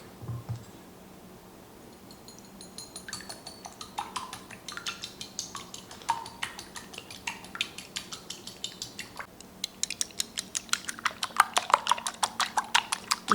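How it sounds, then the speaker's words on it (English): Eggs for scrambling are whipped with a fork in a bowl, quick rhythmic metallic clicks that start sparse and build into a fast, steady, increasingly loud beating pattern. "You want to really incorporate as much air into your eggs as possible, and really don't overbeat them, but really whip in the air"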